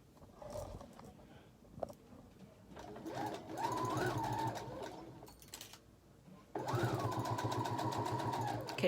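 A sewing machine stitches a fabric face mask in two bursts, a short hum near the middle and a longer, louder steady run toward the end, with pauses of faint handling noise in between.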